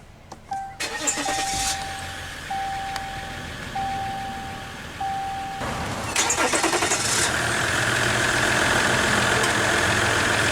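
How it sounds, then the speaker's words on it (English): A 2015 Ram 1500 Laramie Limited 4x4 pickup with the EcoDiesel engine is started by push button: chimes sound inside the cab, then the starter cranks and the diesel fires and settles into a loud, steady idle. "let's go ahead and start the engine, and it does have push-button ignition."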